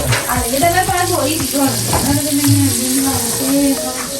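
Butter sizzles steadily in a hot pan while an oats omelette is stirred, a loud close crackle running throughout as people talk over it.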